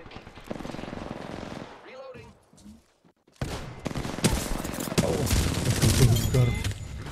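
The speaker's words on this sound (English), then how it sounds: "The enemies are shooting." Gunfire from the Apex Legends video game: a dense, loud fusillade of rapid shots fills the second half after a brief lull. Busier game noise and scattered sharp reports surround it.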